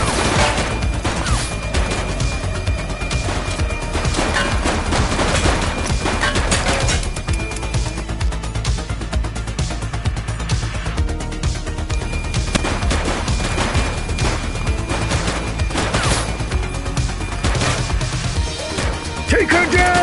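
Dense gunfire crackles through a loud, chaotic shootout in The Precinct on PS5, with repeated bursts and crashes running nearly nonstop and voices mixed in.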